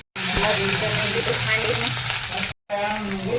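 A tempering of spices hits hot oil for fenugreek leaf bhaji, a Gujarati dish, and bursts into a loud, continuous sizzle that crackles on close by, broken only by two brief cuts.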